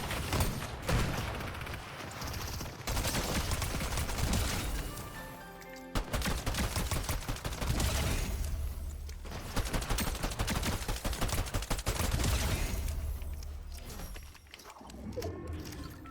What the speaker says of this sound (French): Vas-y, tire à n'importe où, il n'y a pas de menace, je crois.